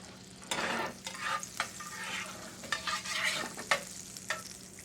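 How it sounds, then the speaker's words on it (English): Potatoes pan frying in butter for potato pancakes: a soft, steady sizzle broken by several scraping stirs of a utensil against the pan, with no voices. "I'm just going to pan fry them. Going to add a little bit of butter."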